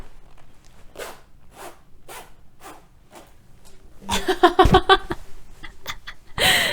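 A jacket zipper is zipped in a quick, close burst of ripping teeth after a few soft breaths or rustles, ending in a brief louder scrape.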